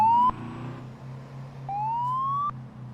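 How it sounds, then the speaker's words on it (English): Police car sirens in a convoy wailing in short rising sweeps, two clear bursts over a low engine rumble, fairly close and loud. "Every single time I hit the siren, there's another police car in the mist."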